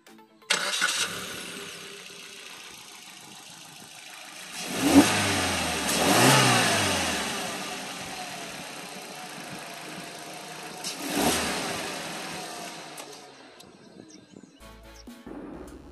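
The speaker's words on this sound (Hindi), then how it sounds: "इंजन का एग्जॉस्ट किस तरह होता है चलिए सुनते हैं" A car engine cranks and catches, revs up briefly, then settles into a steady idle, with a second rev a few seconds later before quieting.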